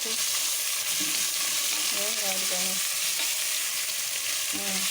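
Ginger garlic paste and tomato pieces fry in a pan for chicken biryani, a loud continuous sizzle with occasional scraping stirs and no talking.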